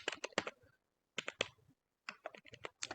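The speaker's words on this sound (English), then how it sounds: "So I'll simply type it" Keys clatter on a computer keyboard in three quick clusters of close, crisp clicks separated by short pauses, nearby and clear with no talking.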